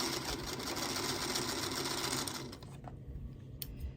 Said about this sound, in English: I've got my little bonus squares here that I will just sew in between